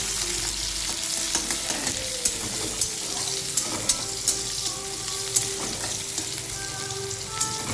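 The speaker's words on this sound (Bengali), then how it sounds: "ভালো করে এবার একটু লাল আর একটু ভেজে নেব।" Crushed garlic and four green chilies frying in a pan, a steady close sizzle with clinks and scrapes of a stirring spoon recurring through it.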